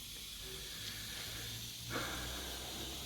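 A spray paint can lays down a first coat on a Holden HD HR centre console, a faint steady hiss that brightens in a short louder burst near the end.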